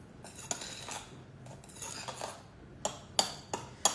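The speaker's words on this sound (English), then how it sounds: "I'm just using the knife to cut it slightly." A knife scrapes and clinks in a bowl as it cuts butter into a lemon and cherry scone mix, with soft rubbing strokes followed by several sharp metallic taps near the end, close and clear.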